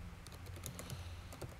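Rapid keystrokes on a computer keyboard while coding, a quick uneven burst of close, crisp clicks with no voice.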